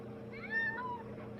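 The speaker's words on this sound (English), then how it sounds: "It's a cat." A cat in an anime episode meows once, a clear rising-and-falling cry with bright harmonics, heard alone over a steady low background hum.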